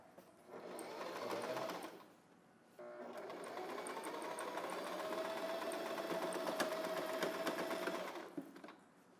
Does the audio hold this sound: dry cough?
no